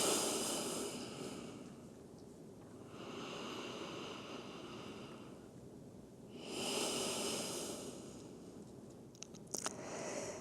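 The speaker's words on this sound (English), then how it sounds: "taking a few deep breaths here" Slow, deep breaths drawn in and out during a yoga child's pose, forehead resting on the mat. Long airy inhales and exhales swell and fade in a steady rhythm, close and soft, with no talking.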